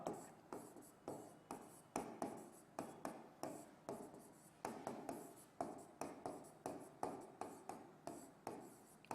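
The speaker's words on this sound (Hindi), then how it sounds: "मैं यहां पर लिख दूं" Chalk or marker writing on a classroom board during a chemistry lesson, a rapid series of short tapping and scratching strokes in quick bursts, close and quiet, with no speech.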